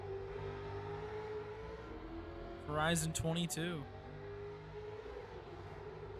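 A race car engine in a racing video game swells into a whining, rising rev as it passes, then fades back under a steady drone, with a voice speaking briefly.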